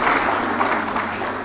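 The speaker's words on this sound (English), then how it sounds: "A round of applause for him one more time" Audience applause for the Canadian High Commissioner at an ActionAid Nigeria women's leadership event in Abuja, a steady wash of clapping from a crowd, moderately loud and sustained.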